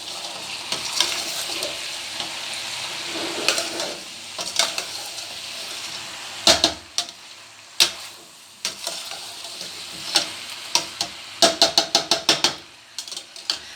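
Chicken and okra fry in a pan as a spoon stirs and scrapes through them, a constant sizzle with irregular clinks and a quick run of knocks near the end.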